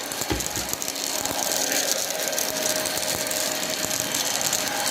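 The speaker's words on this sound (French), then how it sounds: "J'ai mis le turbo." A Honiture H10 cordless stick vacuum runs on turbo with a constant loud high-pitched whir and airy hiss, plus faint rattling clicks near the start.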